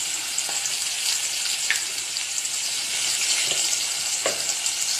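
Potatoes and taro root frying together in hot oil in a Bengali kitchen, a steady close sizzle with faint stirring taps and no talk.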